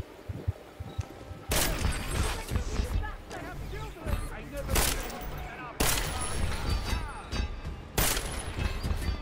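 Several loud gunshots fired in Deus Ex: Mankind Divided, a battle rifle or revolver, each sharp blast spaced a couple of seconds apart with a ringing tail, over faint game ambience.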